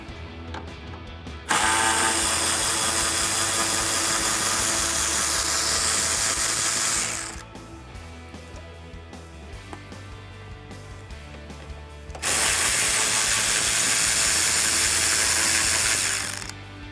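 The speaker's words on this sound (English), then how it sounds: "using my 10mm socket and ratchet, I'm going to remove the 2 bolts here on the front of the headlight" A 10mm socket on a ratchet working the front headlight bolts of a RAM 1500 truck, heard as two long, loud, steady whirring runs separated by a quieter stretch of ticking mechanism, close up with no talk.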